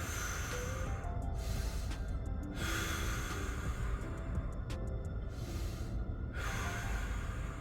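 Slow, deep breaths during a stretching exercise come in long, broad whooshes of inhale and exhale, repeating at a calm, steady pace close by, with no talking.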